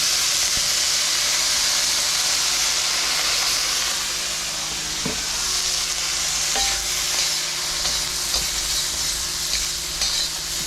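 Browned tofu splashed with soy sauce sizzles and fries loudly in a hot pan, a dense continuous hiss with small crackles and a few stirring clinks throughout.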